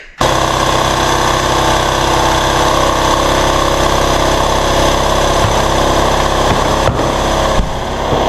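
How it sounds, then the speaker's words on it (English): An air compressor runs loud and continuous while filling its tank in a car-painting workshop, a steady motor drone and rattling hum starting abruptly and holding level throughout, with a couple of faint clicks near the end. "I gotta let this air compressor air up."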